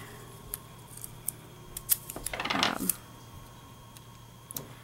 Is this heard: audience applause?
no